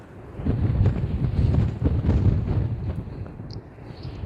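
Strong wind gusts buffet the microphone outdoors beside a river in Taiwan during shrimp catching, a loud, rumbling, fluctuating roar that fills the whole stretch with no one speaking.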